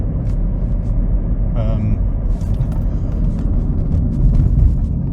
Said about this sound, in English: There's a lot of road noise.